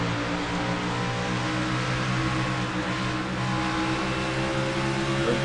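A stock car's engine eases off the throttle during a NASCAR Castrol GTX Cup Series race in a racing video game, a steady loud harmonic drone holding nearly constant pitch with a slight dip, no voices.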